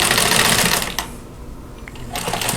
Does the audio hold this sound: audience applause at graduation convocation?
no